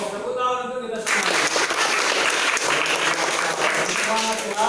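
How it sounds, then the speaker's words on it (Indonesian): Classroom applause at a madrasa: a group of pupils and their teacher clapping together, steady and fairly loud, following a brief spoken line at the start. "Oke, tepuk tangan untuk kita semua."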